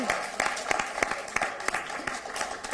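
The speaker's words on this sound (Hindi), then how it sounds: "जोरदार तालियां" An audience at a Hindi poetry contest breaks into lively applause, a dense, steady clatter of many hands clapping throughout, with some voices faintly underneath.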